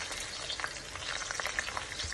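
Pork chops fry in bacon fat, a soft, continuous crackle and sizzle with fine popping bursts, steady and close throughout.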